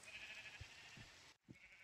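A sheep in the Minecraft Tekxit 3 modpack bleats faintly in short bursts over a quiet high-pitched game hum, with a few soft thuds and a brief dropout near the end.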